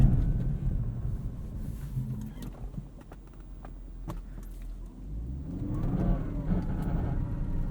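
A 2003 Lexus IS 300 with a five-speed manual, running in snow mode on Blizzak WS-90 winter tires, pulls away with a steady low engine drone and road rumble that swells toward the end.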